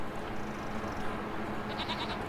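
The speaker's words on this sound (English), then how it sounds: "now I'm in here with the goats" Goats bleat in a Farming Simulator 25 pen, a steady run of nasal bleats over a constant noisy farm-game background, with no one speaking.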